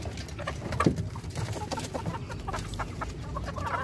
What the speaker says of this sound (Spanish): las gallinas escarbando.